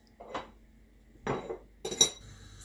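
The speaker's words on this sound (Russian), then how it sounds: "Ставлю сковородку на огонь." A frying pan set down on a kitchen stove while mushrooms and onion are being prepared for frying: three short metallic clanks and scrapes of cookware, close and moderately loud, with quiet pauses between.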